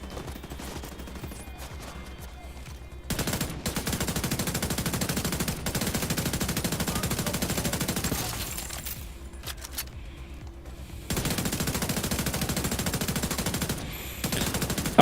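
Turret gunfire in The Division 2, long sustained bursts of rapid automatic fire in several stretches, loud and close with brief pauses between bursts and no talk.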